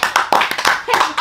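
Scout-style tepuk pramuka clapping: a quick, rhythmic run of sharp hand claps at close range, with voices chanting along over the beat.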